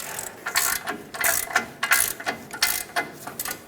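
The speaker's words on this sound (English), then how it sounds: "Now let's tighten up this mounting nut. I'm going to use that same 28mm socket." A ratchet with a 28mm socket tightens the ball joint mounting nut on a Ford E-350, giving a steady run of rapid pawl clicks in repeated bursts, close and fairly loud, with no talking.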